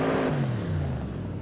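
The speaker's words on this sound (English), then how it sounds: "This is how it sounds with the intake and those other two upgrades." An Audi RS 6 engine fitted with a race intake in Forza Horizon 5 revs in a brief burst, a rumbling engine note sliding downward in pitch as it falls off the rev.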